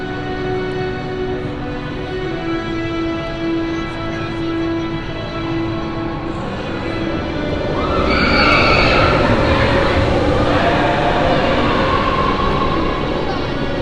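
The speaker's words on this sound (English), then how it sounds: "Oh, I think the train's coming." A train rumbles in at Magic Kingdom over steady crowd noise, growing louder midway with rising mechanical whine and clatter as it draws near.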